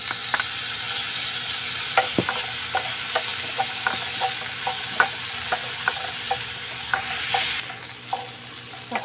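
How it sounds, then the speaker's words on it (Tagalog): Tomatoes frying in a pan with ginger for ginisang monggo, a Filipino mung bean stew, with a steady sizzle and repeated scraping clicks of a utensil stirring at close range, no talk. "Then, lagay natin ang ating kamatis."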